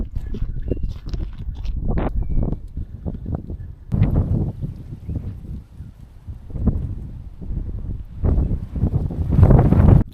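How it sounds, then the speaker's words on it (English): Strong wind buffets the microphone in rumbling gusts that surge and fade repeatedly, loudest toward the end, outdoors in the Australian outback. "It's pretty windy."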